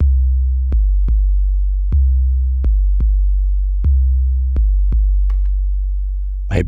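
Deep 808 kick drum hits from a Roland TR-8S drum machine, loud and booming, with about a dozen sharp attacks in an uneven pattern, each sustaining into a long tonal low hum.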